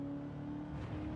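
A car engine in a racing video game hums steadily through a brief moment, a mid-level droning tone with no clear surge.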